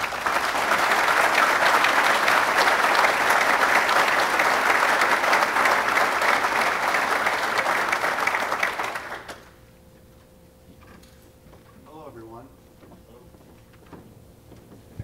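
Sustained applause from the audience at an economic development corporation's annual meeting, welcoming a keynote speaker: loud, dense clapping that holds for about nine seconds, then drops off sharply to quiet room sound with a few faint stray noises.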